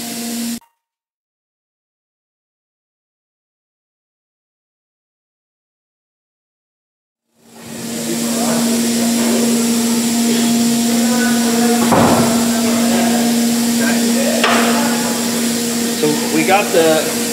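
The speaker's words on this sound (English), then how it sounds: "Let's see what happens when we press on the pinion." A shop press forces the pinion out of a scrap differential's bearing: after a stretch of silence, a loud steady droning hum sets in close by, with a couple of sharp knocks as the part gives way.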